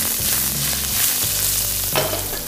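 Chopped onions are tossed into hot oil already crackling with mustard seeds, cumin, dried red chillies and curry leaves for a mixed vegetable curry. The loud, steady sizzle comes close with a few stirring scrapes and no talk.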